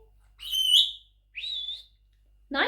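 A pet bird whistles close by in two short, bright, warbling phrases separated by a brief pause, followed by a sharper chirp at the end.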